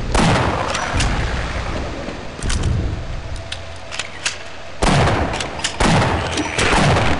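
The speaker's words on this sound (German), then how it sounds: "Ach, die Schrotflinte ist so schlecht auf die Distanz." Several loud, sharp shotgun blasts from the video game Half-Life, spaced irregularly with brief echoing tails between the shots.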